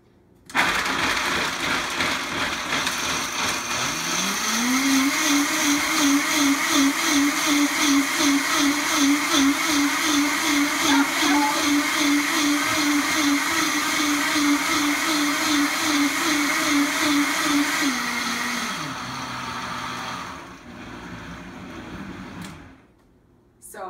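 A blender running at full speed on cashew nut milk, starting up with a rising whir into a loud, steady pulsing roar that holds for about fifteen seconds, then winds down and stops.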